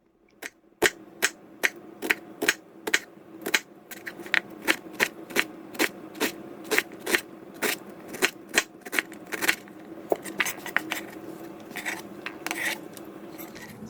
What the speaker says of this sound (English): Now I'm gonna dice up half of a red onion.